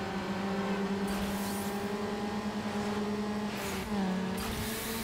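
Race car engine in the Need for Speed: Underground video game, a loud sustained droning rev held at high pitch, dipping briefly as the gear changes near the end with faint tire noise.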